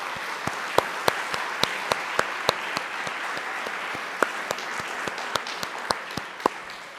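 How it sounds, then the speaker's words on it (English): Applause from an audience at a statewide Democratic candidates forum, a sparse, steady round of hand claps with distinct individual claps ringing out regularly over several seconds. "So if we could give them one final round of applause"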